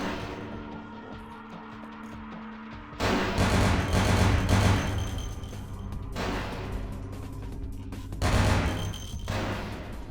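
Gunfire in Vampire: The Masquerade - Bloodlines: a quiet stretch breaks into loud, dense bursts of shots with a rumbling low end, easing off, then a second heavy burst near the end.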